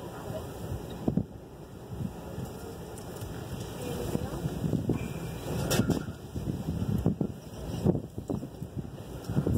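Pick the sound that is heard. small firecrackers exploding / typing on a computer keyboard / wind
wind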